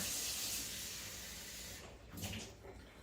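Water poured or running from a tap into a cooking pot for quinoa, a steady hissing wash that swells briefly near the end; no talking.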